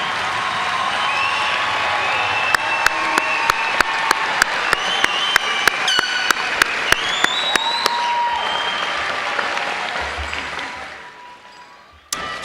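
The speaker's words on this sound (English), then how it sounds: "Let's give all of our graduates one last big round of applause." A large audience at the SUNY Broome 2019 commencement ceremony gives the graduates a long, loud, dense round of applause, with sharp, evenly spaced clicks cutting through it, before it fades away near the end.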